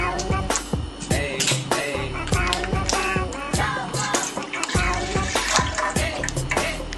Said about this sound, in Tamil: இதுல கொஞ்சம் தண்ணி மிக்ஸ் பண்ணி